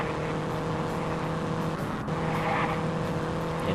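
Race car engine in Indianapolis 500 Evolution on the 1961 Langhorne circuit, a constant loud droning motor with tire and road noise, steady throughout apart from a brief dip near the middle.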